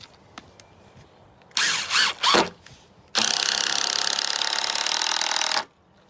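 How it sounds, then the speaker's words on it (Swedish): A power screwdriver drives screws through an outer wooden deck joist into a post: short whirring bursts, then one long steady drive of about two seconds, close and loud with no talk. "Så nu är det bara att väga in den efter vattenpasset och skruva."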